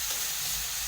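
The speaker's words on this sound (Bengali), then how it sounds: "এই আদা রসুন দিয়ে একটুখানি ভালো করে নাড়ানাড়ি করছি" Ginger and garlic fry in a pan for a vetki fish curry while being stirred, giving a brief, steady, close sizzle.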